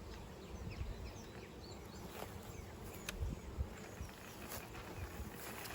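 Honey bees buzzing steadily around an open, healthy hive during a nuc installation outdoors, a dense continuous drone with faint individual buzzes passing close, no talk over it.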